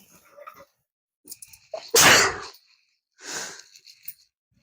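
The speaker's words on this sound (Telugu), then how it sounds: "తుమ్ములు అయితే వచ్చేస్తున్నాయి" One loud, sharp sneeze bursts out near the middle, followed by a softer second sneeze-like exhale, with quiet breathy sounds before it and near silence between.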